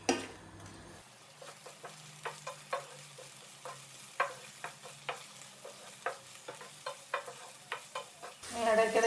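In a Kerala-style kitchen, food fries in oil in a covered pan. A spoon scrapes and taps at a steady pace over a soft sizzle, and louder clatter is heard at the start and end.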